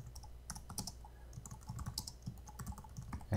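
Typing on a computer keyboard, with rapid, irregular key clicks close by and fairly quiet, with no talking.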